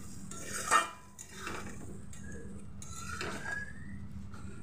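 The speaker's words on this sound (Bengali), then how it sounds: "এবার আমি মশলাগুলো ভালো করে মিশিয়ে নেব।" A spoon scrapes and clinks against a pan while stirring spice paste with green chilli paste and chilli powder, a few close metallic scrapes over a low kitchen hum.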